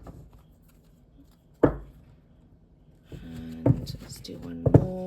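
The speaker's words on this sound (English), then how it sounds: "just doing a last quick clean of the deck, shuffle." An oracle card deck is riffled and snapped together in a few quick bursts, close up, separated by brief pauses and faint background noise.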